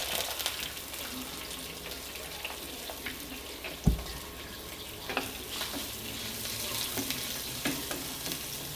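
Onions fry in oil with cardamom for tomato rice, giving a soft, steady sizzle with occasional stirring taps and one sharp knock partway through.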